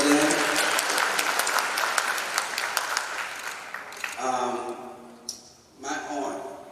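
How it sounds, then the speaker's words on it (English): Applause from a graduation ceremony crowd for the class of 2021, dense clapping for about four seconds, then a voice speaking over fading claps. "Round of applause again."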